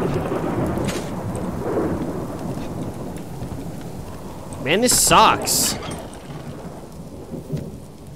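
Steady rain with rolling thunder in the video game Subsistence, a continuous wash of rainfall with a louder crack-like burst midway, while someone briefly talks over it.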